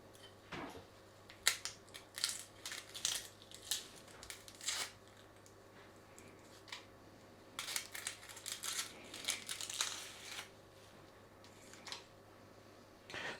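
An onion being peeled on a chopping board, with bursts of dry papery crackling and tearing of the skin that come in clusters, pause briefly, then resume, fairly close and soft, with no one talking.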